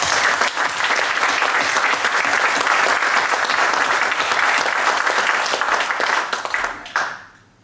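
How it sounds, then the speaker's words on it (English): An audience at a conference talk gives a sustained round of applause, dense and steady clapping from a large crowd that fades out at the end. "I will ask you for a big applause for him"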